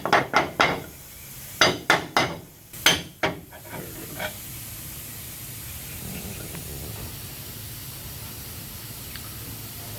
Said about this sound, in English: I'm going to use a block of wood to bump this off.